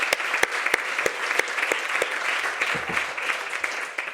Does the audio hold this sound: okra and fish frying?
no